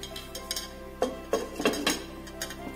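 A lid goes onto a cooking pot of pumpkin kalakand, giving a few light metallic clinks and taps close by, spread over a couple of seconds with no talking.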